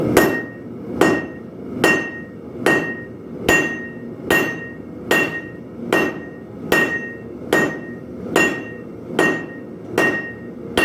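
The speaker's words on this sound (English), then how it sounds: "just take a 4-pound sled, just got a flat face and a rounding side." A 4-pound sledge hammer striking a hot coil spring on an anvil while hand forging a KA-BAR knife: about twelve evenly spaced, ringing metallic blows, roughly one per second, loud and close with no talk.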